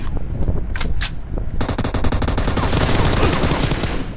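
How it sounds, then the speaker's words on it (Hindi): Gunfire in the battle-royale game BGMI, where an M24 sniper rifle is in use: two spaced single shots ring out, then a loud, rapid, sustained burst of repeating fire crackles close by for several seconds. "कोई M24 चला रहा है"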